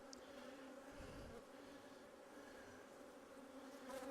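A steady, droning buzz of many honey bees at an apiary, continuous and fairly close, with no voices.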